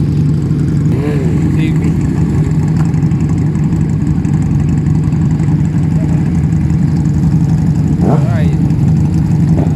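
Big motorcycles with open-pipe exhausts idle with a loud, steady, throaty rumble outside Cafe Katerina, punctuated by a brief rev swell near the end, while people talk nearby.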